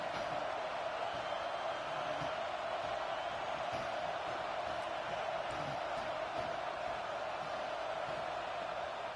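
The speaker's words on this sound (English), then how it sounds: "This crowd going to try to make life miserable for these guys." A large stadium crowd at an American football game roars in a steady, unbroken wash of cheering and noise, heard from within the stands.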